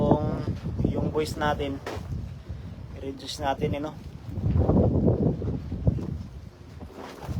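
Gusty wind buffets the microphone outdoors by the water on a fishing outing, a low rumbling roar that swells loudest in the second half, under and between a man's speech.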